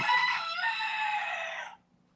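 A single rooster crow rings out loud and close, lasting under two seconds before cutting off to quiet.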